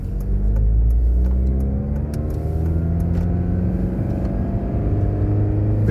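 A used car accelerates onto a highway, its engine note climbing steadily through the gears in a loud, close interior rumble with rising tonal whine and road noise, no talk.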